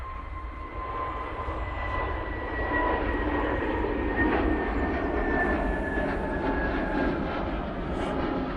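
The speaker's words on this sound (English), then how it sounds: "This is the SAS going back to Copenhagen" An SAS airliner in new livery departs Manchester Airport for Copenhagen in low visibility, its steady jet roar broad and sustained with a faint whine running through it, moderately distant and heard alone.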